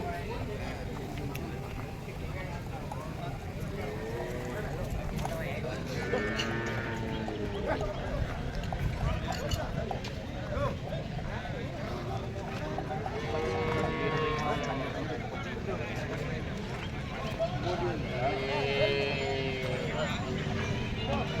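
Livestock crowd at a cattle market in Chinapuram, Erode district, with steady busy murmur and scattered animal calls and hoof sounds throughout, voices talking over the constant background.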